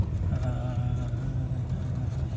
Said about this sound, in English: this is the first time I'm driving a Dakota, testing out the transmission after the valve body.